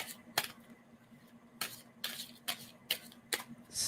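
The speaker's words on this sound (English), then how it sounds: "And tell me when I should stop shuffling on that." A deck of tarot cards being shuffled by hand, giving a string of quick, crisp riffling bursts at irregular intervals over a quiet background, fairly close.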